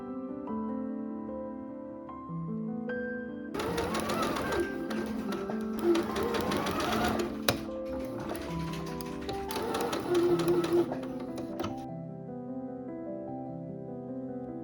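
A sewing machine stitches lining onto dress yoke and midriff panels, running in two rapid bursts of close mechanical clatter over soft background music.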